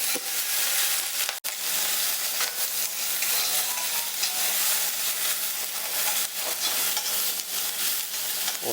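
Onions and green chillies sauté in a pan for a Kerala padavalanga thoran, giving a steady, close sizzle with stirring scrapes throughout and one sharp knock near the start.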